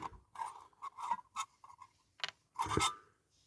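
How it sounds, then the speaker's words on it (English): Hand file rasping at a wheel on a 1955–59 Dinky Bedford Heinz diecast toy truck, with short irregular strokes and scrapes close by, separated by pauses. "file off this wheel there"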